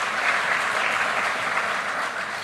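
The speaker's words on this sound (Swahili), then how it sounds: "Tuwapigie makofi jameni." An audience at a presidential event in Nairobi's KICC breaks into sustained applause, a steady wash of many hands clapping at a fairly constant level.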